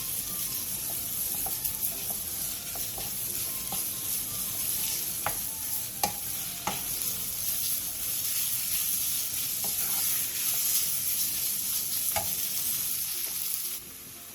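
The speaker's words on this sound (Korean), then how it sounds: "팬에 기름을 두른 뒤 어묵과 다진 마늘 한 스푼을 넣고 골고루 어우러질 정도로만 중불에서 볶아주세요" Fish cakes and a spoonful of minced garlic stir-fry in an oiled pan over medium heat: a continuous close sizzle broken by scattered sharp clicks and scrapes of stirring.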